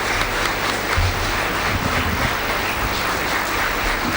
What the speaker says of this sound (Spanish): Recibimos al doctor Sanguinetti con un fuerte aplauso.